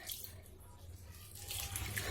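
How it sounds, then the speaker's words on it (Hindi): Lentils (dal) being rinsed and rubbed by hand in a bowl of water in a home kitchen, a steady low sloshing and trickling that swells louder toward the end, with no talking. "उसके बाद इसमें पानी डाल करके 5-6 पानी से अच्छी तरह से दाल को धो लेंगे"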